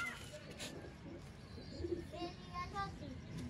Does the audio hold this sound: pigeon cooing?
yes